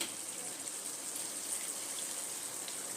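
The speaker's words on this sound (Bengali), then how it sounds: "জল দিয়ে দেব" Water pours steadily into a simmering Chicken Lababdar gravy with chopped green chillies, making an unbroken close hiss of splashing for a few seconds with no one speaking.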